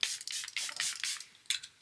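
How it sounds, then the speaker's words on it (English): Several short hissing spritzes of a makeup setting spray bottle misted onto a face, close by, in quick bursts with brief pauses between them. "I'm just going to spray my face."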